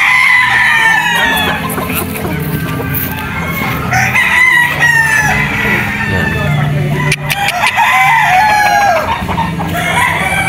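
A lemon straight-comb gamefowl rooster at a game farm crows and clucks up close, with repeated calls over a low background murmur of other birds.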